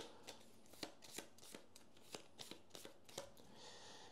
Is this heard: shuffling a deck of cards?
yes